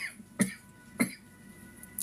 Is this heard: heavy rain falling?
no